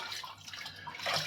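Tap water running onto Aqua Velva shaving cream, a brief soft wash of flowing water with a slight splashy rise toward the end, close and fairly quiet.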